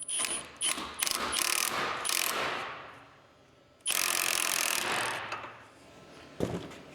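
Ratchet clicking in quick bursts while snugging grade 8 flange head bolts and locking flange nuts on the spring hangers of a 1953 Mack A40 truck, close and loud, with a pause before a second long run.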